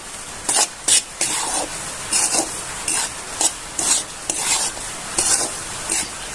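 Barnyard millet flour and rice flour being stirred and sautéed in a pan, rhythmic scraping strokes repeating about twice a second over a soft background sizzle.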